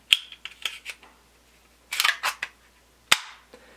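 Magazine of an air-powered brad nail gun sliding and snapping shut, a series of close, sharp metallic clicks and scrapes with a short gap, then one crisp latch click.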